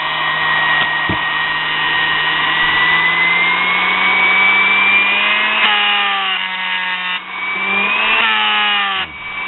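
A small homemade mini grinder motor runs loud and close with a high steady whine that rises and dips in pitch as the load changes, over a low hum, with no talk.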